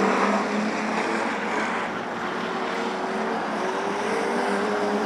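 Street stock race cars with narrow tyres run on a clay speedway at Murray Bridge, their engines a continuous, fairly loud roar from a distance, the pitch rising and falling steadily with no talk.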